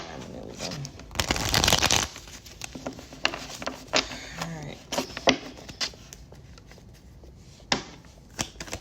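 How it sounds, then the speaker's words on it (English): A deck of cards being shuffled, with one loud burst of riffling and bridging followed by softer taps, snaps and handling clicks as the cards are squared. "I'm going to shuffle one more time"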